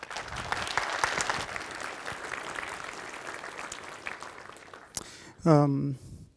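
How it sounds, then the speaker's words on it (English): Conference audience applauding a speaker on implementing large language model inference in pure C++, steady moderate clapping for about five seconds before a voice begins speaking. "Big round of applause"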